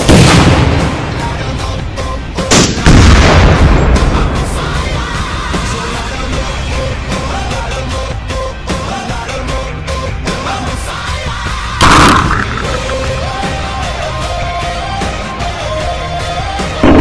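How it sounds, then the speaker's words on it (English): A turkey stuffed with tannerite blows up in a sudden heavy boom near the start, followed by a roaring noisy rumble and a second burst later, all loud and close. "we'll see if we can't get a nice big boom out of this thing"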